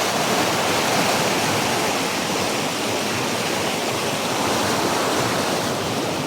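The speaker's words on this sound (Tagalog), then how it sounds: "Bumubulwak ang tubig." Strong, rushing water gushes loudly and steadily near a large rock on the way toward a hilltop, forming a dense, continuous roar with no letup and no talk.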